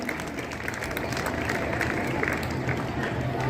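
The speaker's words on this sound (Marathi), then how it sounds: "सर्वांनी टाळ्या वाजवायच्या आहेत." Dense, steady applause from a school audience at a 77th Republic Day celebration at a junior college in Lanja, with clapping that fills the whole stretch at an even level.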